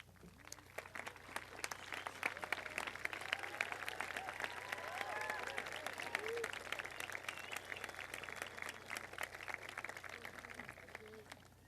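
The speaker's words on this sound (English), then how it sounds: "I would like them to stand and accept your round of applause." Graduation audience at a high school commencement applauds the teaching faculty, a steady wash of many hands clapping at moderate distance in a large space, with scattered voices mixed in throughout.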